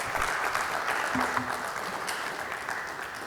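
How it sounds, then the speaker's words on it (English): A round of applause at a men's meeting welcomes a presenter: many hands clapping in a dense, even patter that holds steady and fairly loud from start to finish. "Please help us to receive Mr. Martin. Give him a round of applause."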